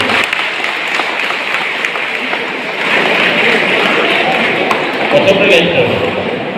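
A hall full of people at a college inauguration ceremony for cultural and sports activities claps in steady, dense applause that carries on throughout, rising slightly partway through.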